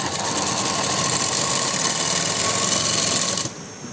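An electric sewing machine runs top-stitching along a floral frock in a fast, steady whirring buzz, loud and close, then stops abruptly near the end.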